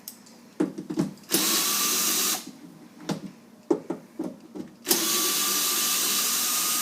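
Power drill with a Phillips bit backing out screws from a 2008–2012 Honda Accord door lock actuator, several short whirring bursts and two longer sustained runs separated by quiet gaps and small clicks, close and alone.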